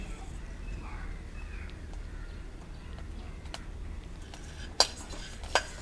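Black kavuni rice being dry-roasted and stirred in a pan, with soft scraping and rustling grains under faint background noise, then a couple of sharp metallic clanks near the end.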